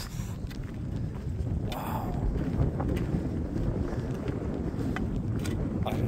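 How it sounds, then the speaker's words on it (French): Wind gusting across open fields beneath cliffs in Albania, a broad, steady rush buffeting the microphone, with scattered footsteps or light knocks along the way. "Avec le vent qui souffle là."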